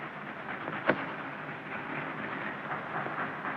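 A train in a 1951 film rumbles steadily nearby with a continuous rolling noise, one sharp clank standing out early on.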